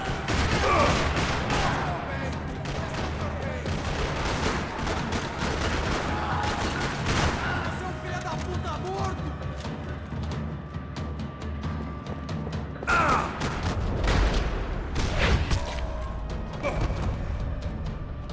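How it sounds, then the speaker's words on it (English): Gunfire rattles through a parking lot in the Max Payne 3 video game: rapid, loud bursts of automatic fire and sharp single shots, with heavy volleys at the start and again near the end, plus crashing impacts. "Another parking lot rattling with gunfire."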